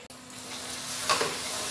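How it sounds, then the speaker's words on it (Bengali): Sugar is stirred into mango halwa in a pan, giving a soft, steady sizzling hiss with faint scraping and one small clink. "এটা ভালো করে আমরা নাড়বো"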